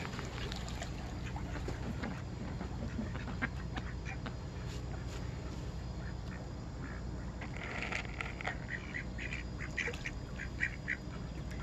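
Ducks quack in scattered bursts around a carp feeding pond, moderately distant and fairly quiet over a steady outdoor hum, with clusters of calls near the middle.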